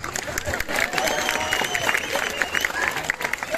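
An evening hometown gathering in Krumovgrad fills with dense, continuous audience clapping mixed with crowd murmur and scattered cheers, heard across the whole stretch.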